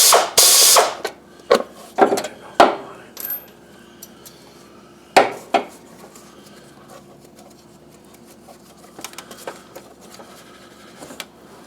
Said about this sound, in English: here's the real small ratchet if you want to use that